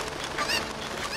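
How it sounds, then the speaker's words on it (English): Cucco chickens in the video game Ocarina of Time let out one brief, loud, honking squawk with harsh, noisy texture. "Flee from the cuckoos!"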